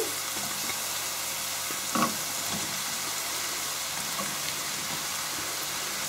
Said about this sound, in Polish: Pieczarki będziemy podsmażać około 5 minut.